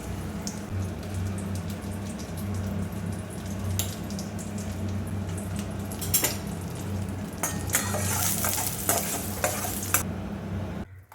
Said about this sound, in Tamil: நெய்யில் வந்து திராட்சை பழம் பழம் பேரிச்சம்பழம்லாம் போட்டு வறுத்துக்கலாம்